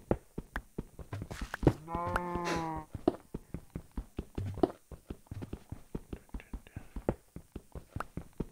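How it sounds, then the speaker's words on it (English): A Minecraft cow gives one long, clear moo over a steady patter of repeated in-game clicks and footsteps. "I'll spare the baby cow."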